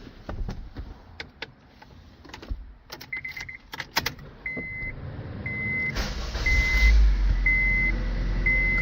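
Keys jingle near a Honda Civic started with a new flip key, followed by repeated short electronic beeps. The engine then catches and settles into a steady low rumble as it runs.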